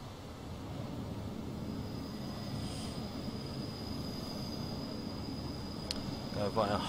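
Class 40 diesel locomotive in Train Simulator 2016 running round its coaches on a loop, a steady low rumble with a thin high whine throughout and a short squeal of wheels near the end.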